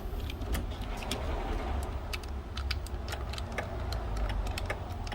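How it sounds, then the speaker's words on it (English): A faint, irregular ticking of small clicks comes from the passenger window of a 1999 Jaguar XK8 with the ignition on, close by over a low background rumble. "I can hear a little bit ticking noise on the passenger window"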